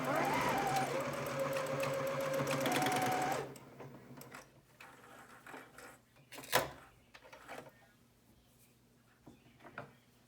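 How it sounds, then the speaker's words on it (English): A sewing machine stitching back and forth across the end of a fabric face mask, running loud and steady for about three seconds, then giving way to quieter handling clicks and rustles in a room. "Now I go to my sewing machine. I'm going to sew like 1 inch in, back and forth."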